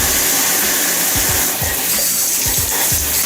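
Running water pours steadily from a tap to rinse salt off the handle of a fishing reel, a loud, continuous close-up splashing hiss with no voices.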